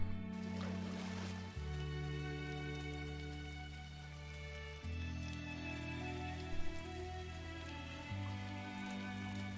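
Soft rain patters in the video game Gris, a faint, steady drizzle beneath sustained, slowly shifting ambient music tones.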